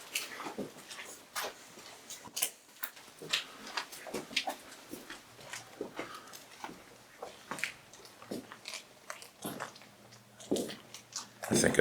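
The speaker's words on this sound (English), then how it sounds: "I think I just heard a dog barking outside. It sounded like a little yippy dog." A small yippy dog barks outdoors in faint, scattered yaps, far off and sharp, with quiet stretches between the bursts.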